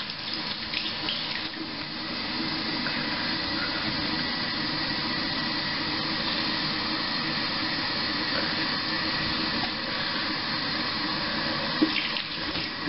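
Tap water runs steadily and close at a bathroom sink while an exfoliating face mask is rinsed off, a continuous rushing flow with no talk.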